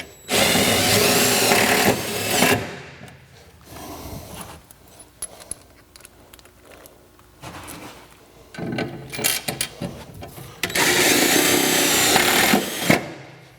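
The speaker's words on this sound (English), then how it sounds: "then go ahead and drill them in" A power drill whirs in three loud bursts while drilling into a truck bed, separated by quieter pauses with light clicking and handling noises between them.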